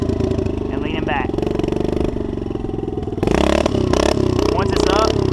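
A pit bike or minimoto engine revs in throttle blips while held in a stunt wheelie, gas feathered against the handbrake, the loud buzzing motor growing harsher partway through with talk running over it.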